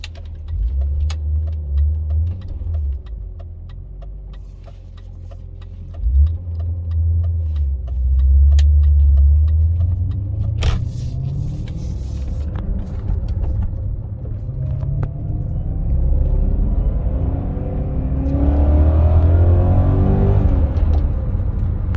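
A 2000 BMW E39 M5, unregistered and in need of repairs, rumbles steadily and deep while warming up, then its engine note climbs and swells into a louder pull near the end, close and unaccompanied by voices.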